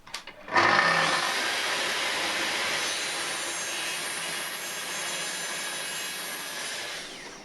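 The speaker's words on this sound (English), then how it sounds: "And then trim that edge back with a track saw." Track saw trimming an edge, a loud, close motor whine that spins up sharply and holds a steady high roar while cutting, with no talk.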